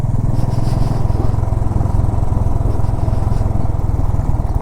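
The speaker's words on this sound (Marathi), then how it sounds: "सुनसान रास्ते पे जा रहे 4 बाइक" Four motorcycles ride along a deserted mountain road, their engines throbbing loud and close in a steady, rapid pulse with no pauses.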